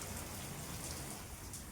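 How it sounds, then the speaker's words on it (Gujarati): Heavy rain falling in a Gujarati village, a steady even hiss of downpour, faint and uninterrupted, with no voices. "અમારે વરસાદ ચાલુ થઈ ગયો."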